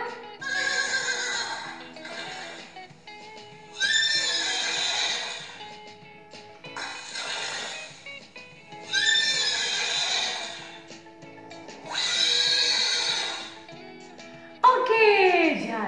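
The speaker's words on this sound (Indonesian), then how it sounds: "Adalah suara kuda" A horse neighs in a series of loud, quavering whinnies, about five of them spaced evenly with short quiet gaps. A final sharp whinny rises at the end.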